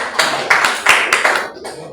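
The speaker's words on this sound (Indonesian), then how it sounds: "Beri tepuk tangan." A small classroom group claps in several short bursts during a religious lesson quiz, sharp close handclaps in uneven clusters.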